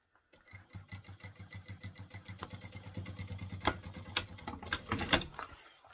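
An industrial sewing machine stitches blind binding in quick, rhythmic bursts of needle chatter, starting and stopping as it runs forward and back, close and clear with no talking.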